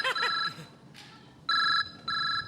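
A mobile phone ringtone plays in short electronic bursts with gaps between, moderately close, in a quiet room with a brief bit of voice early on.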